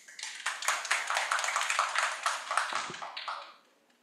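A conference audience applauds to welcome a speaker, with a dense wash of clapping that holds steady for about three seconds before fading out.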